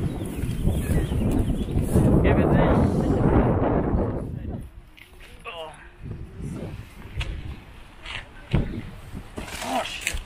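Strong gusts of cold wind buffet loudly for several seconds by Lake Ontario in Toronto, then ease into a lighter blustery rush with scattered thumps and voices talking.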